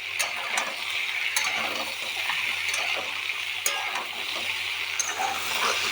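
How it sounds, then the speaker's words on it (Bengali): Turmeric frying in hot oil for a vegetarian jackfruit curry, a steady crackling sizzle with occasional sharp stirring clicks against the pan, alone without talk. "হলুদটা দিয়ে একটু ভাজা হোক।"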